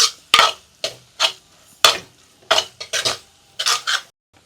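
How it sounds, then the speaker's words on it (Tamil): Masala being stirred together in hot oil for a vatha kulambu, with a series of distinct close scraping and clinking strokes of a spoon against the pan in an uneven rhythm, separated by short quiet gaps. "இப்போ எல்லாத்தையும் நம்ம ஒன்றா எண்ணெயில் வதக்கிடலாம்."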